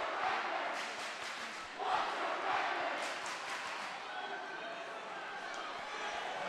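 Loud student-section crowd roaring and cheering throughout a boys high school basketball game between Trinity and Mechanicsburg, a steady wash of yelling with bursts of louder shouts.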